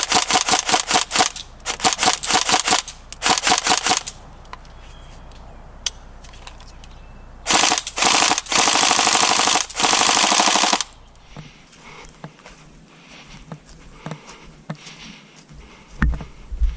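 A Tokyo Marui AKS-74U airsoft gun with recoil shock fires several loud, rapid full-auto bursts with short pauses between them, followed by quieter clicks and mechanical handling noises.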